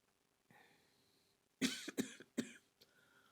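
Three sharp coughs burst out close and loud in quick succession, after a quiet breathy stretch during a morning yoga stretch, with a faint exhale trailing off at the end.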